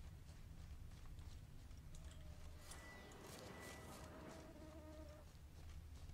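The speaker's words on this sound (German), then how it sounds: "Ich habe eine Mücke gehört." A faint, thin buzz of a mosquito drifts in and out in the Witcher 3 game world, quiet and intermittent over a soft ambient background.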